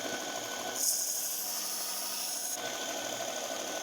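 Knife blade drawn across a sharpener in a faint, steady rasping pass lasting under two seconds, heard close against a quiet background.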